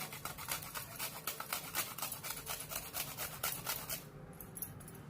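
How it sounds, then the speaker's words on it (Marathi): Nutmeg is grated with quick, rhythmic rasping strokes, close and fairly quiet, in a steady back-and-forth run that thins out near the end. "यामध्ये आपण जायफळ किसून घालूया"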